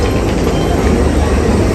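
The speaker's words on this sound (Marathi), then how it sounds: "ह्या ट्रेनमधून जाणार आहे आपण." A train at Solapur railway station gives off a steady, loud rumble and clatter that fills the whole moment without a break.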